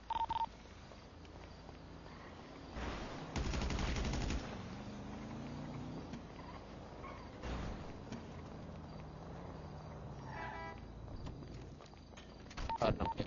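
Gunfire in a GTA 5 roleplay game, with bursts of shots around the third to fourth second and again near the seventh, plus scattered cracks later, set against a steady game background.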